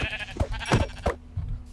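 A sheep in the Minecraft video game bleats three times in quick succession, loud and close, followed by a softer fourth bleat, with no talking over it.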